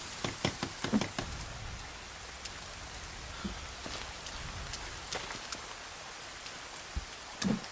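Heavy rain pours down in the survival video game The Forest, a steady hissing wash of drops with occasional louder splattering bursts, close and enveloping, with no voices.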